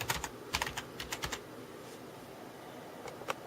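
Typing on a computer keyboard while entering commands in a Windows 10 command line: close, crisp key clicks in quick irregular runs, then a pause and a couple of final taps.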